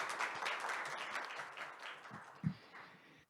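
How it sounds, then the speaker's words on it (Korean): At an academic public administration seminar, an audience claps to welcome a lecturer, giving a dense, sustained round of applause that gradually thins and fades out, with a louder thump near the end. "큰 박수로 환영해 주시길 부탁드리겠습니다"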